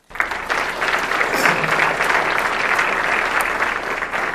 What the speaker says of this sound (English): So we should also applaud them,